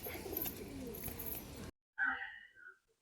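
A tumbler pigeon gives a short, low, breathy coo after a burst of background noise cuts out, the call heard close and alone in a brief quiet moment.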